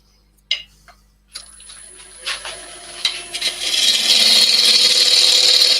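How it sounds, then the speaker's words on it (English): A 3/8 ball gouge cuts a spinning wooden workpiece on a lathe, with a few sharp taps at first and then a steady scraping hiss that grows louder and denser until it stops. "I'm using my 3/8 ball gouge to turn this."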